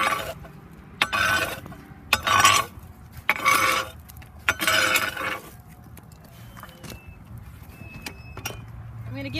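Burning wood pushed back to the edges of a wood-fired pizza oven with a metal tool: several rough, close scraping strokes in the first five seconds, then a quieter steady background.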